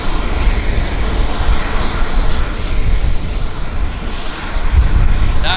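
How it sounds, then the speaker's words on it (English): A Twin Otter propeller plane taking off at Vancouver Airport, a loud steady engine roar holding throughout with a slight surge near the end. "We're gonna get a takeoff on the Twin Otter"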